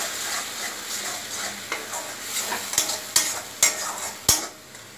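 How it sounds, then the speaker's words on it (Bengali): Tomato paste and spices fry in a pan for a Bengali katla kalia as a spoon stirs, giving a steady soft sizzle broken by several sharp scrapes and clacks against the metal. "দিয়ে টমেটো পেস্টটা আমি দিয়ে দিলাম, দিয়ে আবার আমি একটু নাড়াচাড়া দিয়ে নেব।"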